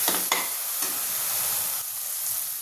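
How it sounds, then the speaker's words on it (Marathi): Sorrel greens sauté in oil with turmeric, chili powder, masala and chutney, with close, continuous sizzling broken by a few scraping stirs of the spoon in the pan and no speech. "हे छान परतून घ्यायचं आणि चांगलं शिजू द्यायचं."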